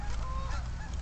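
Geese honk loudly and continuously at a goose hunt, a dense, close chorus of overlapping calls filling the whole moment.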